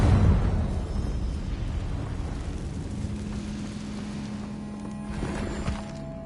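A Confringo fire-blast spell explodes in Hogwarts Legacy, a strong opening burst that settles into a long, crackling rumble that slowly fades.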